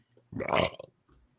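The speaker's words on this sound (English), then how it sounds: "I recognize that belch." A single loud, rumbling belch lasting about half a second, followed by a brief faint sound and quiet.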